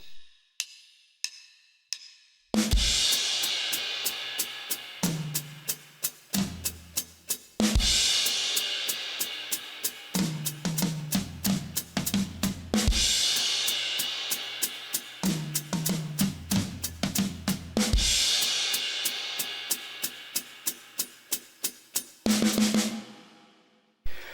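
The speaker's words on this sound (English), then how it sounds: "It's the next part of the song where the drums change." A drum kit plays a busy pattern from a song with sharp hits, crashes and tom fills, loud and close after a brief quiet count-in, no voices.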